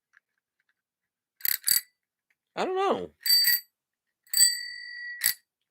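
A bicycle-style bell is flicked several times in short separate bursts, some rings cut off quickly and one left to hum out, close and fairly quiet, with a brief spoken remark in between.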